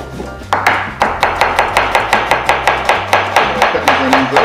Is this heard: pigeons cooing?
no